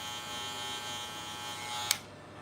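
A Gamma Shorty hair clipper hums with a steady, bright electric buzz while cutting a high taper. The tone is close and constant and cuts off abruptly near the end.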